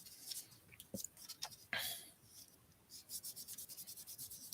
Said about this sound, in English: Just rubbing that glue down some.